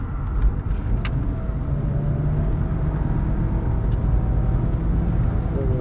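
A VW Golf 7 GTI Performance climbing a twisty mountain pass, heard from inside the cabin as a steady loud engine and road drone that holds throughout with no talk.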